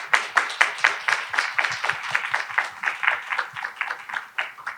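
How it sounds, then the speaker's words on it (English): An audience at an arts and health summit session claps for the panelists, a small group giving distinct rhythmic hand claps, fairly close and moderately loud, steady for several seconds. "So let's give a round of applause to our panelists"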